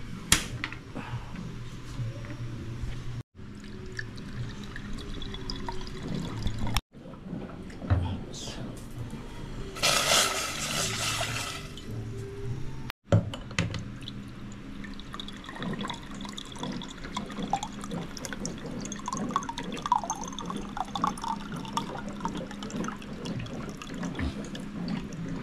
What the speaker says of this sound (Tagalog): Pero, ito, dagdagan ko na lang ito ng tubig.